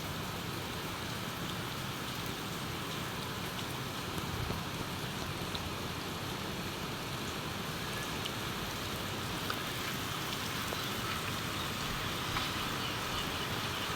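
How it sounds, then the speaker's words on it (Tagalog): Heavy rain pours onto a terrace in a continuous, loud, even hiss that stays steady throughout with no pauses and no voices. "Malakas na naman po ang ulan dito."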